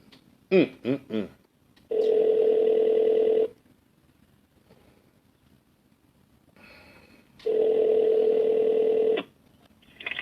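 A telephone ringing loud and close, two long electronic rings separated by a pause, with a few brief sounds before the first ring.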